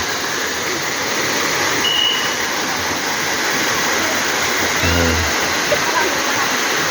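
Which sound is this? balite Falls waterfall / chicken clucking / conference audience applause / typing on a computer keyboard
balite Falls waterfall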